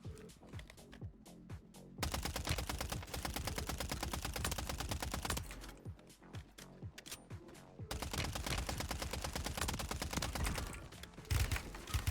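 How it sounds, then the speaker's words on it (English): Rapid bursts of suppressed gunfire from a silenced weapon in a video game, dense repeated shots in long strings with brief pauses between volleys, loud and close. "I start shooting one person with a silenced weapon"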